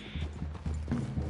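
Horses in the video game Red Dead Redemption 2 clip-clop at a walk, a soft uneven rhythm of hoof falls on the ground, fairly close, with a faint tone briefly at the start.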